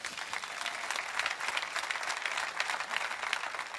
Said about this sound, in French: Que des gens de tous les âges applaudissent le Seigneur avec moi ce matin.